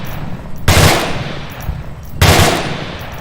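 Two short bursts of rapid automatic fire from an M16A4 rifle in the VR shooter Onward, each a loud, dense rattle of gunshots with a decaying tail, separated by a pause.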